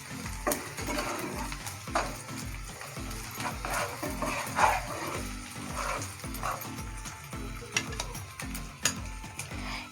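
Chopped onion frying with a spoonful of ginger-garlic paste in a pan for beans masala, giving a steady close sizzle with repeated scraping and knocking from stirring throughout, and no talk.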